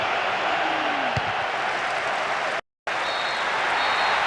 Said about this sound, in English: The huge roar from the crowd as the referee blows the final whistle.